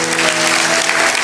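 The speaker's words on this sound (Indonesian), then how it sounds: "kasih tepuk tangan untuk Tuhan" Church congregation applauding during a sermon, a dense, steady burst of many hands clapping close and loud with no speech over it.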